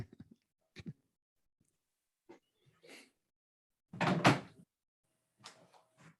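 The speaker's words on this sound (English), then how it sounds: "let me just close the door because I think there's somebody making noise in my house" A door is shut indoors, a few soft handling knocks and then a louder close with a brief thud, scattered quiet noises around it.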